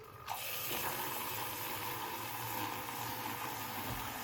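A Bodum electric milk frother starts with a click from its toggle switch, then whirs in a steady low motor hum under a faint, even hiss as it runs, close and unbroken.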